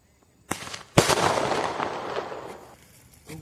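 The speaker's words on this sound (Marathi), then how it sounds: "आज पण मी फटाके फोडायला चाललो आहे" Firecrackers going off outdoors during a festive celebration, two sharp close bangs followed by a crackling burst that fades over a couple of seconds.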